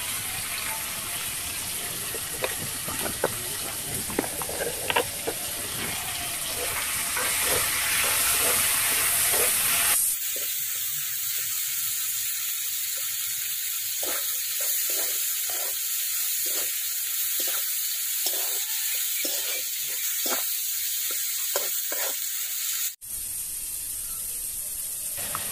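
Prawns and mung dal fry in a pan with a steady sizzle that continues throughout. A sharp change in tone partway through suggests stirring or a cut, and no one speaks.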